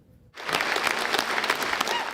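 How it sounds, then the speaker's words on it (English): A sold-out crowd at the Savoy Theatre in Glace Bay breaks into loud, dense applause for a men's choir concert, bursting in suddenly after a brief quiet moment and holding steady. "It was standing ovation after standing ovation as Jim McClellan took the stage for the final time"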